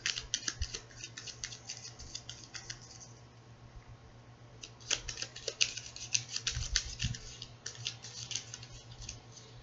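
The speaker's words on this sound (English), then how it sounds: "shuffle these cards and see what we can find out" Crisp, rapid riffling clicks of tarot cards being shuffled come in several bursts, with quiet pauses between them and a faint low hum underneath.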